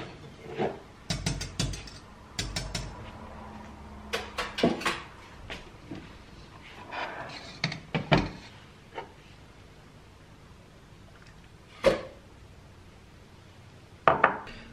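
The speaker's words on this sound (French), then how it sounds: "on va venir avec une louche la verser dans les petits bols" Thick dessert cream being ladled into small bowls in a home kitchen, with scattered clinks and knocks of a ladle and bowls on a counter, irregular taps clustered early and sparser toward the end, close and fairly quiet.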